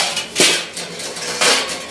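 A metal lid clanks down onto a cooking pot on a home kitchen stove where a vegetable curry is simmering, giving two sharp, close metallic knocks roughly a second apart with no talking.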